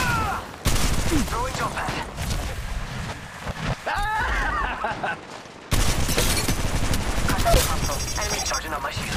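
Bursts of automatic weapon fire and scattered shots ring out in Apex Legends Mobile combat, loud and close with brief gaps, mixed with game effects and a short spoken voice line.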